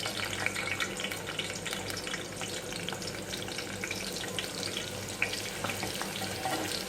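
Chopped onions frying in half a cup of hot oil for moong dal, giving a steady, dense sizzle that holds at an even level throughout, close by, with no talking.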